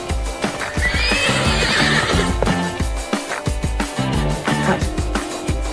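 Horse neighing loudly with rhythmic clip-clop of hooves beneath, a close whinny rising over repeated steady hoofbeats throughout.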